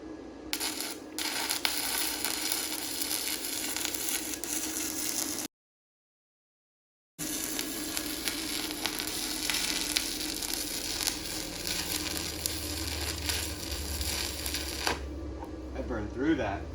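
Stick welding with a YesWelder FIRSTESS MP200 multi-process welder, a steady crackling, sizzling arc running close and loud for long stretches, broken by a short silent pause before the bead resumes.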